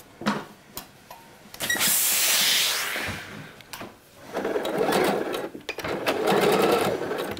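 A sewing machine stitches the second French seam of a Bowie dress in two bursts of rapid whirring, separated by clicks and brief handling sounds, close and fairly loud.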